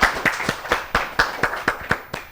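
A studio audience at a children's quiz show claps in a slow, even rhythm of about ten distinct claps, moderately loud and close, with no talk over them.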